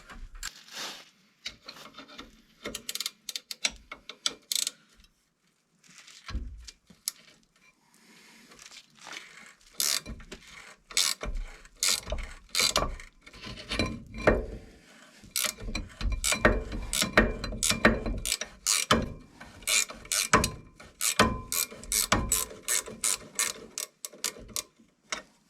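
Ratchet working on caliper bracket bolts of a 2016 Subaru Forester, with bursts of rapid clicking that start sparse and grow dense and insistent, plus metallic scraping, close up and with no talking.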